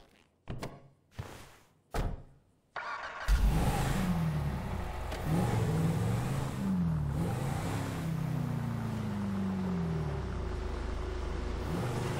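A car in the GTA V video game starts with a few short thunks, then its engine roars up and holds a loud, steady revving drone that rises and falls through the rest of the clip. No one speaks.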